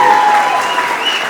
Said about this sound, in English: huge round of applause for the bride and groom.